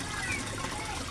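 A 24-watt submersible aquarium pump runs in an outdoor koi pond, giving a steady, faint watery rush and gurgle with no breaks.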